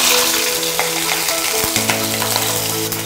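Turkey browns in a hot frying pan with a loud, steady sizzle and crackle. Occasional clicks and scrapes from stirring or turning the meat break through the frying noise.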